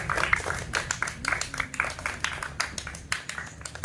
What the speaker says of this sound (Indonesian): tepuk tangan untuk Marvel.